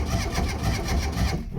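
A Ford Escort MK3 GLE engine, apparently without an accelerator pump, runs with a rough, steady mid-pitched churning close by, a brief uneven burst of running with no voices over it.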